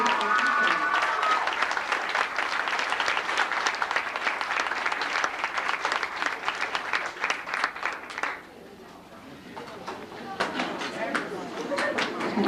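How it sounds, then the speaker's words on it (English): Loud, sustained applause from an audience at a middle school awards ceremony, dense clapping filling most of the clip before thinning out toward the end, with talk mixed in. "Let's give them a big round of applause"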